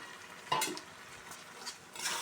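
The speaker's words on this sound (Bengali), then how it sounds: "দেখো মশলাটা দিয়ে আমি ভালো করে কষিয়ে নিচ্ছি।" Prawns with taro and spices are stirred and fried in a pan, with soft, close scraping strokes of a spoon over a faint sizzle and no voices.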